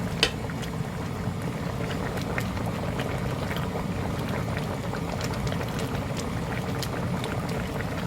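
Chicken stew broth simmering down in a pot, a steady low bubbling rumble with scattered soft pops and crackles throughout, close and even.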